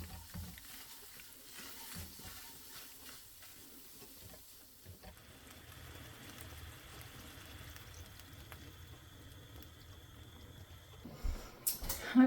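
Butter, flour, salt, pepper and milk cook into a white gravy in a pan, giving a soft, steady sizzle with faint stirring and scraping throughout, a little louder near the end.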